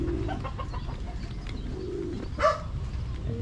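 Pigeons coo softly in an outdoor spot near a pole with a security camera, low murmuring calls repeating under steady background noise, with a brief louder sound near the end.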